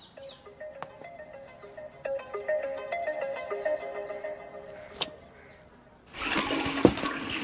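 A phone rings repeatedly in a steady electronic tone pattern at moderate level, cut off by a louder burst of noise near the end, with no talk over it.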